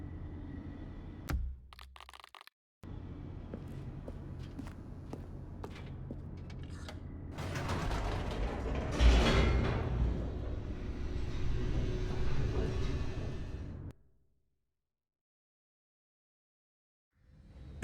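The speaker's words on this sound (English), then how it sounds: "The elevator raced downward, plummeting towards an unknown fate." A lift plunges downward in the video game The Stanley Parable 2, a steady rumbling roar with sharp cracks and rising intensity that swells midway, then cuts abruptly to silence near the end.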